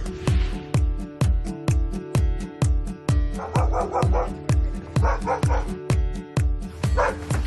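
Dogs barking from inside a van, a loud, steady run of repeated barks and yips in a regular rhythm, with whimpering mixed in.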